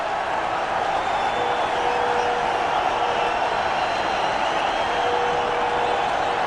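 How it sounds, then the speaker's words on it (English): Cricket stadium crowd during an England v India one-day international, cheering after a wicket falls, a steady distant roar of many voices that stays level throughout. "The crowd very happy."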